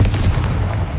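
In the video game Hogwarts Legacy, a Confringo spell blast lands as a single dense, booming burst with a rumbling low end that decays over about a second.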